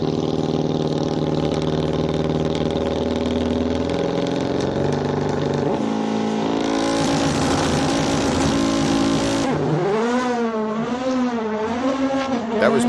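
Hillclimb race car at the King of the Hill event accelerating hard uphill, a loud continuous engine roar rising through gear changes with sweeping pitch as it passes close by.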